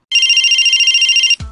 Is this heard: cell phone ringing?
yes